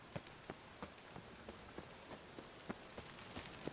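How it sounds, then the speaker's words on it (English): Rain falls in The Witcher 3 video game, a soft steady patter on surfaces with scattered distinct drips landing every half second or so, quiet and evenly spread. "Rainy."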